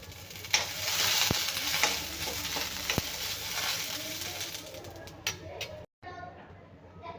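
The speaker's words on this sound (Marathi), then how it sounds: "आता मी मिरच्या घालत आहे आता मिरच्या भाजून घेऊया आपण" Green chillies roasting in a little oil in a pan, a steady close sizzle with occasional sharp stirring knocks, while someone talks over it and birds coo faintly in the background.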